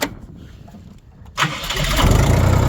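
A Kentavr 244S tractor's engine is quiet at first, then cranks and catches after about a second and a half, settling into a loud, close, steady running rumble.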